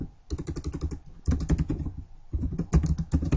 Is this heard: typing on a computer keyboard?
yes